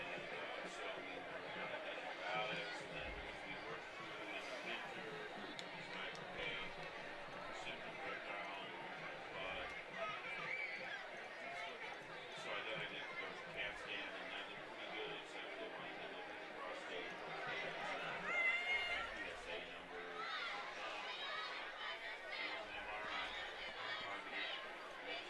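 Steady crowd chatter fills the stands at a Minnesota high school football game, Benilde vs Orono, a continuous mid-level murmur of many voices that never drops out.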